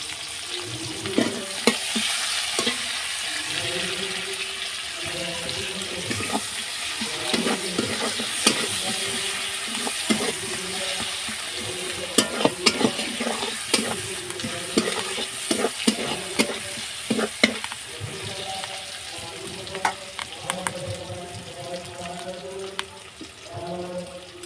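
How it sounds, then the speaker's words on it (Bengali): Onions and green chillies sizzle in hot oil in a wok, a steady close frying hiss broken by scraping stir strokes and clatter throughout, with no talk. "পেঁয়াজগুলোকে লাল লাল করে ভেজে নেব।"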